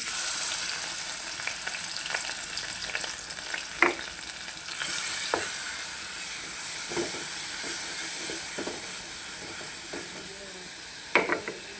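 Spices and garlic fry in a pan for a Sylheti fish curry, with a steady bright sizzle and hiss and occasional scraping stirs and knocks over the top, close up and without talk.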